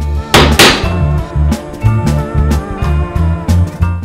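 Hollow mortising chisel tapped along a square to mark a walnut inlay boundary, with a string of sharp, close knocks at an uneven pace over a steady tonal background.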